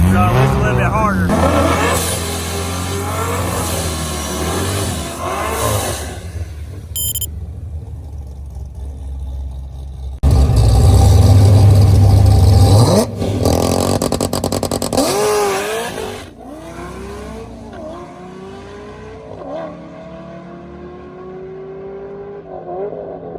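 A Cadillac CTS-V build revs hard on a two-step launch limiter at the SCT Atlanta drag strip, the engine loud and close, then drops away down the track as someone talks over it.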